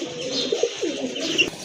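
Pigeons at a market stall coo in a few soft, low, throaty bursts, close by, with a bright chirp near the end and no talking.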